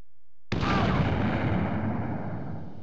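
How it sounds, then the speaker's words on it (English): A grenade thrown through a window explodes in the Commandos 2 video game, a single sudden loud blast that rumbles on and slowly fades without dying away. "The icon that appears in the window indicates the ability to throw the grenade inside."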